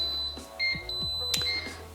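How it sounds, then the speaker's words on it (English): An Instant Pot electric pressure cooker signals it has finished cooking vegan khichdi with short, thin electronic beeps, faint against a quiet kitchen background with a few soft knocks. "Okay, the Instant Pot is done."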